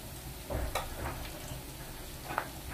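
Meat fries with garlic and ginger paste in a pan, a soft, quiet sizzle with a few brief scraping stirs and clicks, and no talking.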